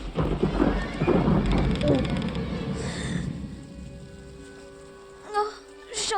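Rain and rolling thunder from a storm scene in an animated film, loud and dense at first, then easing into a softer steady patter with a brief later swell, with a voice speaking over part of it.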